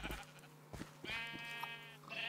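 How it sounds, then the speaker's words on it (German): A Minecraft sheep bleats in the video game with a few short wavering calls and one longer drawn-out bleat, clear and close over quiet background. "Ich schau mal unsere kleinen Schafe."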